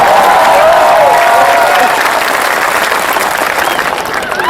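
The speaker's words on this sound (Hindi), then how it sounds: "एक बार हाथ खड़े करके तालियां बजा के बताओ कि मैं चंडीगढ़ में आया" A large crowd at a Hindi comedy poetry show in Chandigarh breaks into loud, sustained applause with some cheering, thick and steady before tapering slightly near the end.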